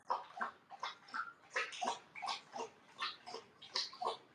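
An animal laps at water in quick rhythmic slurps, a steady run of wet lapping sounds repeating about twice a second, fairly close and faint, with no talk over it.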